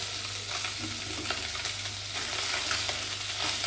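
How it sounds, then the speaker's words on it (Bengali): Fish pieces fry in hot oil in a pan, a loud, steady close-up sizzle and crackle with occasional stirring and no talking. "মাছগুলো ভাজা হয়ে গেছে"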